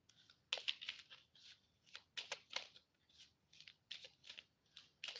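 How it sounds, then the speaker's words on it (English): Tarot cards being shuffled by hand, soft crisp riffles and slides coming in short bursts with brief pauses between, close and quiet, with no talking. "I'm going to shuffle again"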